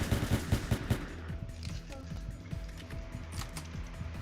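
Gunfire in the Roblox game Entry Point, a rapid string of close shots at the start, then scattered quieter shots and game noise over several seconds, with talk over it.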